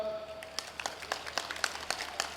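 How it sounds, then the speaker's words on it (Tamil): An audience claps for children at a school event, with scattered, uneven hand claps that build slightly, heard fairly faint and at some distance. "அந்த குழந்தைங்களுக்கெல்லாம் ஒரு கைத்தட்டு கொடுங்க பார்க்கலாம்"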